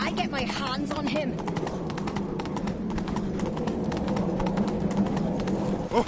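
Horse hooves clip-clop at a steady galloping rhythm in The Witcher 3 video game, close and continuous under voices and game background sound.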